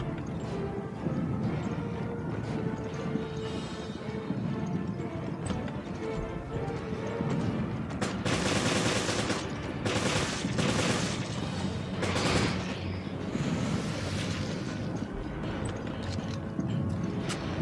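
Sustained automatic machine gun fire in the Resident Evil Revelations video game, a dense continuous clatter of rapid shots with bursts and booming impacts running throughout.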